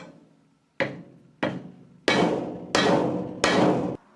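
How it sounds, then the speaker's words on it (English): A new crankshaft seal is tapped into a BMW M10 engine from a 2002 Turbo. Five distinct, solid hammer taps land close by, each ringing briefly, with no voices. "Just going to get it started like this, and then flip it over, tap it into place."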